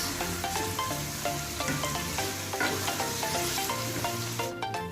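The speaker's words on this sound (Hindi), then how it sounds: "इस स्टेज पे आके लेमन का जूस डालेंगे और इसको करेंगे अच्छा सा मिक्स।" Chicken with lemon juice being stirred in a pan after the tomato liquid has dried off, giving a close, continuous sizzle with repeated scraping and clinking strokes and no voices.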